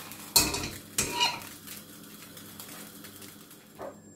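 Cooked liver slides onto a plate with two sharp clinks of utensil on crockery near the start, then soft scraping and light kitchen clatter, close and fairly quiet.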